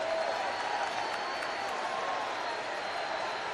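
Convention floor crowd at the Democratic National Convention, a dense continuous wash of applause and crowd noise with boos mixed in, steady and loud throughout without a break.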